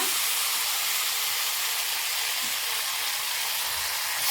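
Ground masala paste sizzling as it fries in hot oil for a bitter gourd gojju, a steady, even hiss holding at the same level throughout with no talking.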